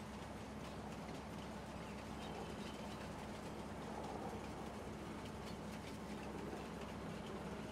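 A steady, continuous rumble and clatter from a train ride in the video game Farming Simulator 19 on the Ravensberg map, even and unbroken throughout with no voices.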